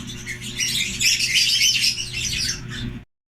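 A dense chorus of many pet birds in an aviary squawking and chattering nearby, continuous and busy over a low hum, ending abruptly.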